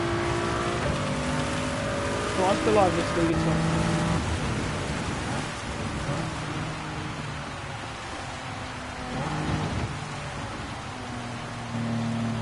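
Heavy rain hisses steadily through a racing video game's race, a broad wash of noise under engine tones, with a brief exclamation over it.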